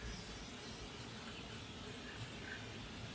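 Oil sprayed onto a large Lone Star Grillz insulated vertical smoker during seasoning gives a steady, close hiss of aerosol spray that runs unbroken for the whole stretch, with no voices.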